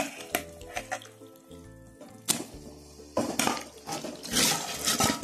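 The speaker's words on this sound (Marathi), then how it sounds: "आता यामध्ये घालायचे मॅरिनेट केलेले चिकन।" Marinated chicken drops into hot masala in a kadhai and sizzles, with scattered clatters of a spoon against the pan and a rising hiss of frying near the end.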